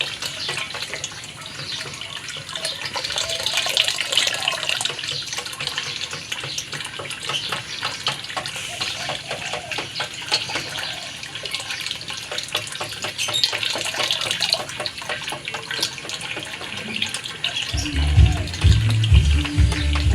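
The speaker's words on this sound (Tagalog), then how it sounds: "Nagpalit ako ng bagong tubig." Water is changed in a catfish tank, pouring and splashing steadily for a long stretch that grows slightly louder near the end, with a faint background of activity.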